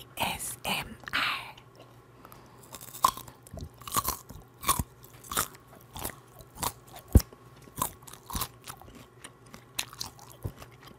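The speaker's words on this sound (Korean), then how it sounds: "아, 생고구마도 말모 아삭아삭." Someone bites and chews raw sweet potato right at the microphone, producing a series of sharp, wet crunches that come in irregular bursts. Soft whispery mouth sounds sit between the bites.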